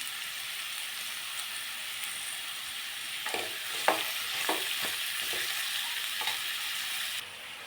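Vegetables for veg fried rice stir-frying in a hot pan, a constant close sizzle broken midway by several sharp stirring and scraping strokes.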